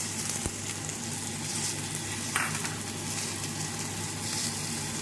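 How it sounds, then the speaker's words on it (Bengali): Chili, tomato and ginger paste sizzles steadily in a pan, a dense, even frying hiss that runs throughout with one brief utensil clink partway through. "দিয়ে একটু কষিয়ে নেব"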